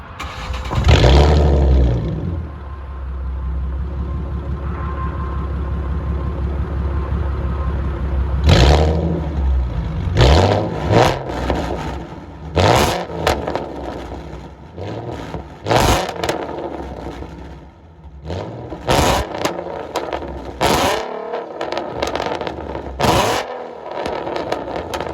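A 2012 Ford Mustang V6 with a BBK X-pipe, high-flow cats and Roush axle-backs idles, then blips its throttle in a series of sharp revs that rise and fall, loud and close, with pauses between bursts.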